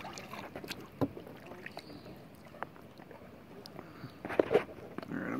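A kayak paddle strokes through calm water in a mangrove channel in Puerto Rico, with soft splashes and drips spaced irregularly and fairly close, and a couple of sharper knocks near the end.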